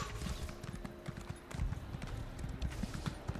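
Horse hooves clip-clop at a steady walking rhythm in the online role-playing game The Elder Scrolls Online, fairly faint and close, with a low steady hum underneath and no talk.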